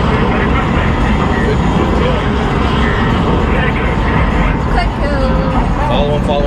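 F-18 jets in the Mach Storm dome-screen arcade dogfight simulator fill the air with a loud, dense, continuous roar that never lets up, with faint talk mixed in underneath.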